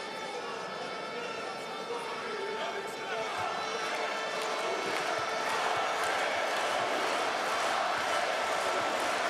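The crowd at a North Macedonia v Estonia FIBA EuroBasket qualifier basketball game keeps up a steady, loud roar and chant that swells slightly partway through, with a voice talking underneath and faint court noises.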